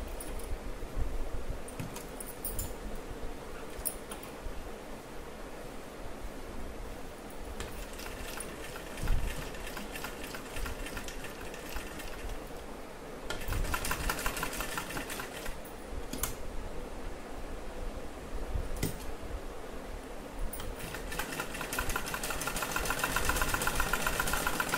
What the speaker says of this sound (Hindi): एक साइड हम सिलाई लगाएंगे